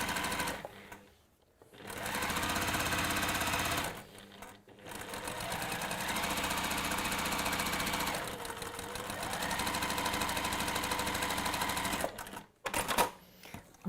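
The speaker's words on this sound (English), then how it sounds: "I'm going to stitch" A sewing machine runs in long loud bursts, stitching down the handles of a fabric bag, with brief pauses between runs and a few clicks of handling at the end, close up and without talk.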